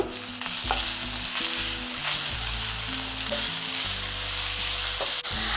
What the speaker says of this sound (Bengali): এরপর দিয়ে দিচ্ছি গ্রেট করে রাখা কাঁচা আম। সব কিছুর সাথে এটাকেও একটু হালকা ভেজে নেব।